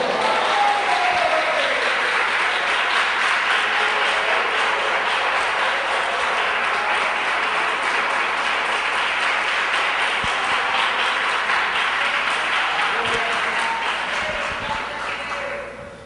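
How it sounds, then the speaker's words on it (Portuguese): A church congregation applauds during a worship service, with dense, steady clapping filling the whole stretch at close range before it thins out at the very end. "Você pode dar uma salva de palmas para Jesus."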